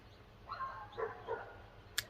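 Dogs bark and whimper in a few short, fairly faint bursts, followed by one sharp click.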